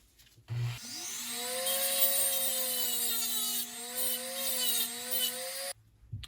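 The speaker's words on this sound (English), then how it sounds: "I just use a Dremel tool and then carefully grind it off" A Dremel rotary tool grinding off the rivets on a VW Mk1 Cabriolet water temperature gauge, a loud high-pitched steady whine that rises as it spins up and wavers under load, then cuts off abruptly.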